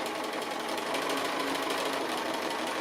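A sewing machine runs steadily through free-motion applique stitching, a continuous fast needle chatter with even rhythm, close and loud throughout with no talk.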